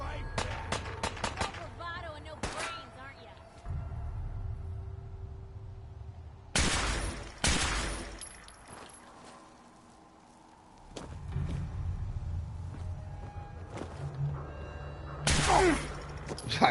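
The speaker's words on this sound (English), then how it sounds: "Who the hell's still shooting me?" Gunfire in Fallout 4 on survival difficulty, scattered sharp shots and bursts with quieter gaps between them, mixed with other game noise.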